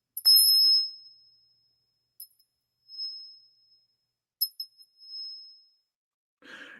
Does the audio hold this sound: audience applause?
no